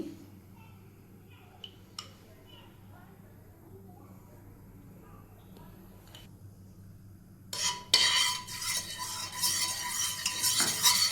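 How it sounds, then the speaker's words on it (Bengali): Ghee goes into a fully heated wok to make pumpkin halwa. After quiet stirring and a few utensil taps, a loud, crackling sizzle bursts in and keeps going while a person talks. "এখন আমি দিব ঘি এই যে ঘি দিতেছি"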